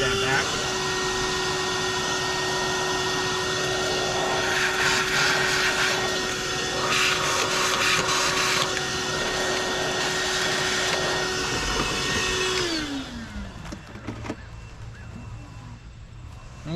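A vacuum cleaner runs steadily and loud while cleaning around the intake manifold of a Chevy 5.3 engine, its drone holding for about twelve seconds before winding down with a falling pitch.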